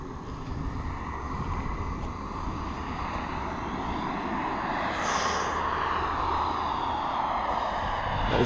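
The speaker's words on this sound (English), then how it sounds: "It's a long time to wind that turbine up." A Tony Nijhuis Vampire model jet turbine engine winding up outdoors, a steady broad roaring whine that holds loud and continuous for several seconds and builds slightly toward the end, with no talk.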